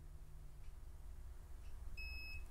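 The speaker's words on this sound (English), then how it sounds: "Right there, there's a beep." A gun torque wrench gives a short, faint electronic beep on reaching its set torque, a single thin tone rising briefly above a low room hum near the end.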